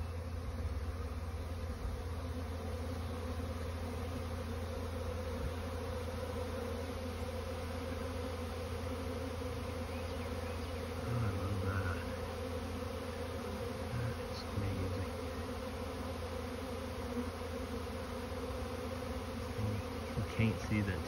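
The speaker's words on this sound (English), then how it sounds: "Monster swarm going in my swarm trap." A large honeybee swarm pours into a swarm trap outdoors, a dense, steady buzzing hum that holds loud and unbroken throughout, with a few slightly louder swells near the end.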